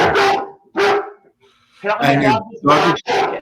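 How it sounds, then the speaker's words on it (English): A dog barks loudly and close by in two groups, first two single barks, then a rapid burst of several, with short pauses between. "the dog is upset because that could have been dog treats right there"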